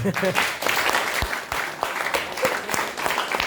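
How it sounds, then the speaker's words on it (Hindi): An audience at a Hindi stage play performance breaks into loud applause, with dense clapping and some sharper individual claps carrying on under a few voices. "जोरदार ताली"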